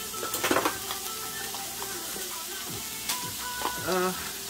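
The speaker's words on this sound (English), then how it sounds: "We're going to start off by adding our sofrito." Sofrito sizzles as it drops into a hot pan for Puerto Rican pastelón filling, with a steady frying hiss and occasional stirring scrapes and utensil clinks, plus a brief burst of talk midway.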